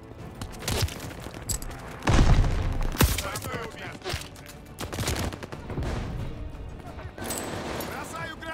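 Gunfire rattles in bursts in Call of Duty Vanguard, broken by a heavy grenade blast roughly a quarter of the way in and a sharp crack soon after, while voices shout over the fighting.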